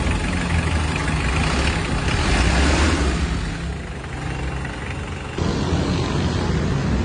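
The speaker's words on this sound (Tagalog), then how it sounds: "Tunog makina na po." A Mitsubishi L300 engine idles steadily after a tune-up, a close, continuous rumbling drone that dips slightly in the middle before resuming at full level.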